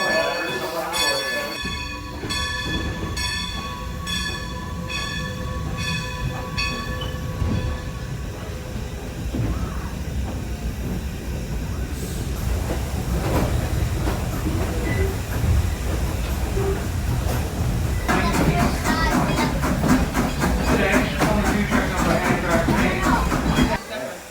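Strasburg Railroad train number 90, a 1924 steam locomotive, runs along the tracks with a steady rumble, and bell-like ringing tones sound early on and again near the end. Voices can be heard at points.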